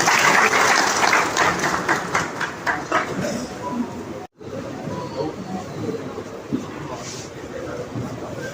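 Applause from a crowd at a BJP workers' meeting in a hall in Ratangarh greets a speaker, a dense, steady clapping that fades briefly and continues under murmuring voices.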